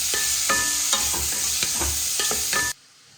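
Sliced cucumber hitting hot oil in a pan seasoned with mustard seeds and a pinch of asafoetida, giving a steady close sizzle with stirring clinks and scrapes, then cutting off abruptly near the end.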